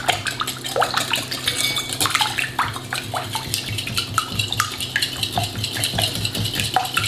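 A utensil stirs neutral grapeseed oil in a bowl while making coconut basbousa, giving steady scraping, clinking and liquid swishing at close range, with no talk.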